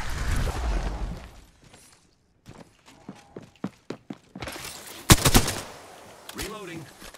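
Gunfire in Apex Legends rings out as a series of sharp separate shots through the middle, then a loud burst of fire, with game noise and a voice talking near the end.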